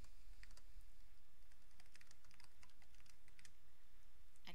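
Typing a comment in a Google Docs document on a computer keyboard: quick, irregular key clicks in short bursts, close but fairly soft over a steady background hiss.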